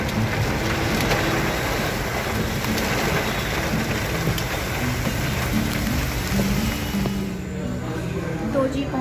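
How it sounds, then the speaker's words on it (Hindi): Heavy monsoon rain pours down steadily on and around a car outside a showroom, a dense, continuous hiss of drops drumming on the body and glass, loud and unbroken throughout. "मौसम इतना बढ़िया हो चुका है, झमाझम बारिश शुरू हो गई है। आवाज़ आ रही होगी,"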